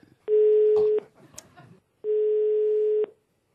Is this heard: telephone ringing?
yes